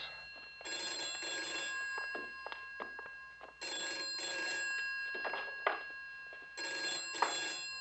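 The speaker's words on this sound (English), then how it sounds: "Your phone's ringing." An old-style telephone bell rings in three long bursts with pauses between, fairly close and clear over a quiet room, with a few soft knocks and rustles in the gaps.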